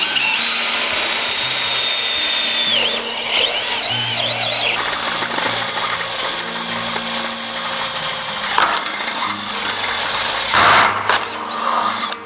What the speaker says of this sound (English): we can go ahead and drill out our deck and the bottom of our post